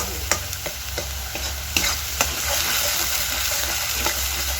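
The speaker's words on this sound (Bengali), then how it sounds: "এই যে আদা রসুনটাকে দিয়ে এখন কষাচ্ছে" Ginger and garlic stir-fry in a pan with a steady sizzle, while a utensil scrapes and taps the pan at irregular intervals, close and fairly loud, with no talk.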